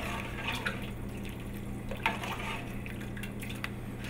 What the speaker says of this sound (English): I'm going to go ahead and add some of my tomato into the soup